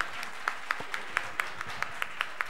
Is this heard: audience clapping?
yes